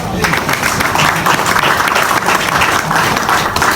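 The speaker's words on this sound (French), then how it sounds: "acclamons très fort pour eux" An audience applauds loudly and continuously, a dense wash of clapping from a crowd that stays strong for the whole stretch.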